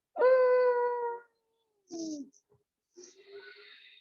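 A voiced, strained, jerky ujjayi breathing sound held for about a second, then two shorter choppy breaths after pauses, close and uneven.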